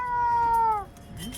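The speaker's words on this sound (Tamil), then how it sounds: "அங்கே நாய்க்குட்டி இப்போ இந்த பூனையை எப்படி துரத்துது பாரு" A cat being chased by a puppy lets out one loud, drawn-out tonal meow that ends with a downward slide, followed by faint background rustling.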